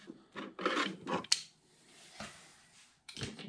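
Metal clamps are popped off armor panels for a CEN Racing F450 post-apocalyptic build, making a series of close scraping, rasping clicks and a sharp snap in quick bursts, with pauses between.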